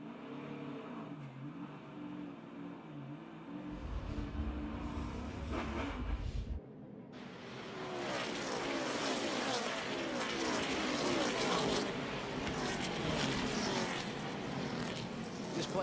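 A NASCAR Xfinity race car's engine roars steadily from inside the cockpit, then the driver lifts off the throttle and the note drops before a loud, broad rush of noise takes over. It stays loud and close throughout.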